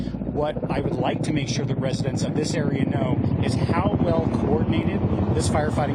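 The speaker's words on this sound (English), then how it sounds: "You can hear a helicopter going over above me right now." A helicopter passes overhead during firefighting at the Sandy Fire in Simi Valley, its steady low rotor rumble running continuously beneath someone speaking close to the microphone.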